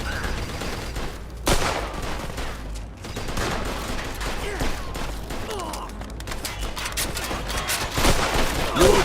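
Gunfire fills a Mafia II shootout as dense bursts of shots and impacts crackle over a busy, rumbling game mix, near and loud, with a few louder bangs standing out.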